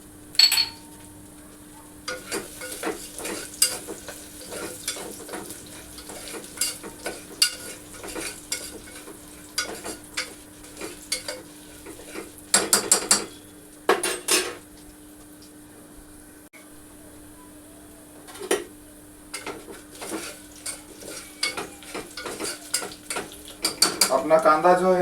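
Onion frying with curry leaves in a pan for khichdi bhat gives a low steady hiss, broken by repeated sharp scrapes and clinks of a spoon stirring against the metal pan, close up with occasional quieter gaps.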